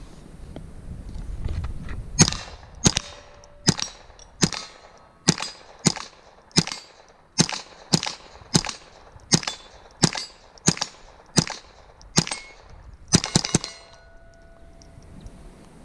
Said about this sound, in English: I have many videos of me shooting this at the range.